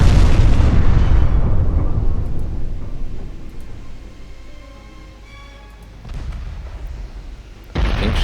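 Heavy naval gunfire and explosions aboard pre-dreadnought warships in a naval battle game, a dense roaring rumble of blasts that fades into a quieter tonal drone before fresh booms return near the end.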